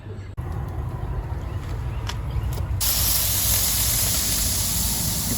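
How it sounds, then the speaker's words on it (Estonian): Burger patties sizzle on a grill with a steady, broad hiss that swells louder and brighter partway through and then holds constant. "siis mina grillin need valmis ja siis saab maitsvat purksi süüa"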